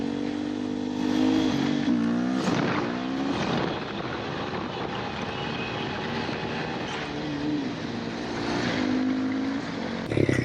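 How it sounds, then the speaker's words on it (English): A motorcycle engine revs up and down during a clutch-up power wheelie, a loud buzzing drone with rising and falling pitch sweeps and brief dips. "And do a power wheelie"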